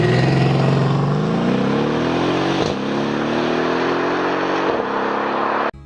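A Mercedes-AMG S63 luxury sedan engine revs loudly and steadily, its pitch climbing through a sustained run before cutting off abruptly at the end, with no talk over it.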